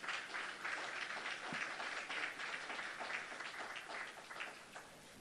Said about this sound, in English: Can we give them a round of applause once again?